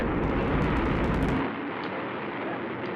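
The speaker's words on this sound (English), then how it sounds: "The Atlas missile has lifted off from the pad and is rising steady into the sky." An Atlas rocket carrying the MA-6 vehicle roars at liftoff, a broad crackling rumble that is loud at first and then drops off sharply to a fainter, distant roar, with no voices.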